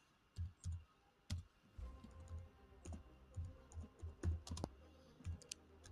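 Typing on a computer keyboard, sparse irregular clicks and key taps in small bursts, close but quiet, with no talking.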